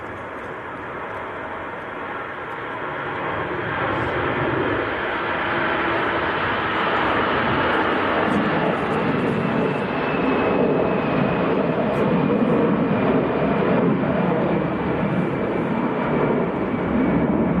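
An Aer Lingus airliner departs Manchester Airport for Dublin on a windy day, its engine roar building after a few seconds into a steady, broad, loud rumble that holds to the end.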